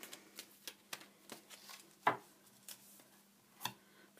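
Tarot cards being shuffled by hand, soft irregular flicks and taps spaced through a quiet room, with one sharper slap of cards midway and another near the end.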